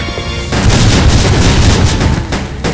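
A grenade launcher explosion in Resident Evil Survivor 2 Code: Veronica bursts and rumbles loudly, a heavy blast followed by crackling debris-like noise that lingers for a couple of seconds.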